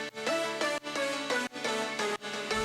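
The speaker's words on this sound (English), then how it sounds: "First, we have the synths." Layered synth chords for a melodic drum and bass track pulse in bright, rhythmic stabs that repeat every half second or so, playing alone and fairly quiet.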